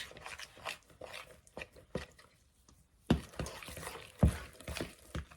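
Dough mixture being stirred in a bowl, giving soft irregular scraping and squishing strokes with a few sharper knocks, close and fairly quiet, with no talking.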